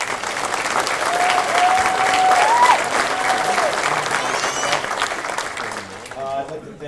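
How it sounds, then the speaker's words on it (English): Loud, sustained applause from a crowd at a football banquet, with dense clapping that swells and holds for several seconds before tapering off at the end. "if we could give them one more round of applause"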